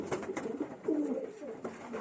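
Several pigeons cooing inside a pigeon loft, soft overlapping low coos close by against a faint rustling background.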